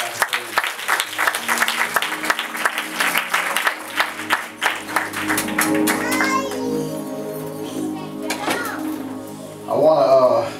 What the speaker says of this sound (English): can we give them another hand clap?